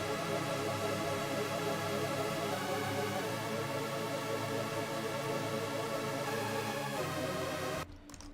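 A loud, dense, high-energy synth lead plays continuously in a home music production session, bright and sustained for several seconds before cutting off near the end.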